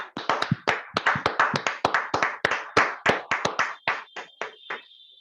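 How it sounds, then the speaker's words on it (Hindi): Several people clap for a participant during an online public speaking session, with sharp, irregular hand claps close by that thin out toward the end. No voices. "जोरदार तालियां दोस्तों"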